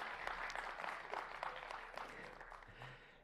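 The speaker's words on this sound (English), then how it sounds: "Can we have a round of applause for our stage hands this morning?" Faint applause from a church congregation thanking the stage hands on a Sunday morning, steady rolling clapping that gradually fades over three seconds, heard from a distance.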